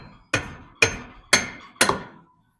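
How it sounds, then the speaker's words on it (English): A lead hammer strikes a car wheel four times at an even, unhurried pace. Each blow is a sharp, close thud that rings out briefly before the next. "take my lead hammer here"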